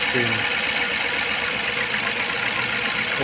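A VAZ 2101 engine runs on gas at idle, the revs creeping up slightly, a steady close mechanical hum with a light rattling texture and no talking.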